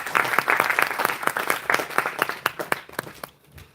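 Audience applause at an international mother language day gathering, a modest crowd clapping in distinct, fairly quick claps at close range that taper off near the end.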